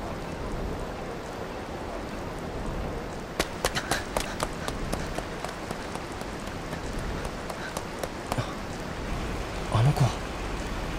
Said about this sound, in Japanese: もう本格的に雨足は強まっていた